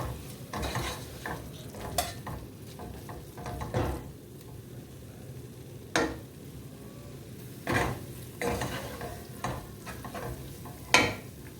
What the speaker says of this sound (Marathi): तर हे सर्व व्यवस्थित मिक्स करून घ्यायचं